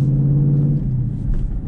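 A Ford Mustang with a manual gearbox pulls away in first gear, a close, loud, low engine drone and rumble with a steady tone that shifts slightly as the clutch engages.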